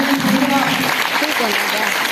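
Audience applause for a team at a school house quiz, a dense steady clapping that fills the short stretch while a voice speaks over it.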